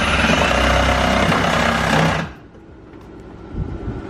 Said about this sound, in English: We use a metal blade because it cuts the PVC real clean.